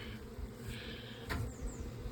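Honey bees buzz around an open Layens hive during an inspection on a farm, making a soft, steady hum with a brief louder pass close by. No one speaks.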